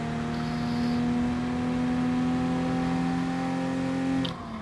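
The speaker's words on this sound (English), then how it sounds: "Another car, that's a lapper, 7th place coming through." A racing game car lapping on track, with a steady engine drone and whine holding level throughout, then cutting off abruptly near the end; no voices.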